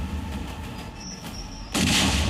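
After a steady low rumble with faint whistling tones, a loud bomb blast in Kareli, Prayagraj, hits near the end and rolls on as a broad roar.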